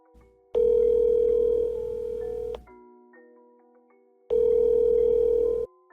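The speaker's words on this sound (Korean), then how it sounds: "그리고 전화 연결음이 울리기 시작했다." A telephone ringback tone sounds twice, each steady electronic burst lasting about two seconds and separated by a short silence. It is loud and close, with no voices.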